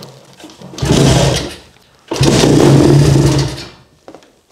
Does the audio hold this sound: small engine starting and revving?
yes